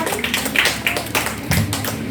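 An audience at an Indonesian Poetry Day celebration applauds, giving a steady, dense clatter of many hands with a few sharper swells throughout, fairly close and lively.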